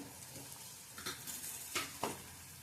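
Ground spice masala toasting in oil for egg bhurji curry, a faint low sizzle with a few soft stirring scrapes.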